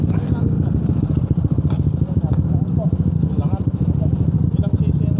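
Engine of a 232cc Yamaha Aerox motor scooter running steadily on a ride, a loud continuous motor drone heard up close with people talking over it.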